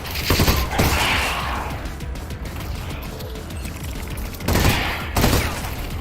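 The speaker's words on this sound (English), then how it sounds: "Burst fire is definitely the saviour here." Burst-fire gunshots in Half-Life Alyx crack out in short clustered volleys near the start and again near the end, loud and close, with a quieter mechanical stretch between.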